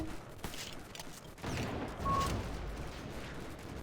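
An explosion blasts a hole through a wall in the shooter game Delta Force Xtreme, a heavy boom and rumbling debris amid distant gunfire, loud and lasting a few seconds.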